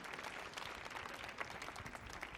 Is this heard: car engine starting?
no